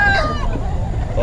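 Rooster crowing amid the bustle of a chicken market in Bocaue, a bright rising call over constant crowd noise and nearby chatter.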